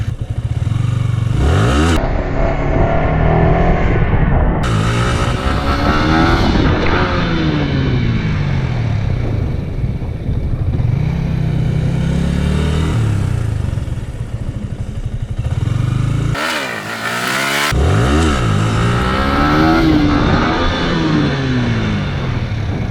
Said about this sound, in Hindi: तो यार ये थोड़ी सी बड़ी व्हीली थी